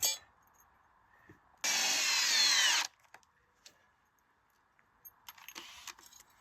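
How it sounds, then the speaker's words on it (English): A power drill drives screws into posts outdoors, one loud whirring burst of about a second in the middle, followed by quieter handling clatter and a brief second buzz near the end. "I just put a couple screws at a time in there"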